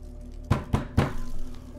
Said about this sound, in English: Fucking banging on the door?